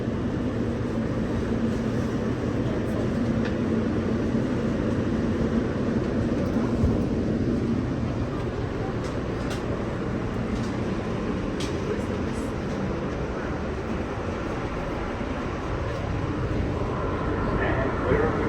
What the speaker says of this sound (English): This is a 2nd Avenue bound E train via the F line.